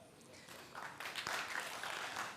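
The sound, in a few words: audience applause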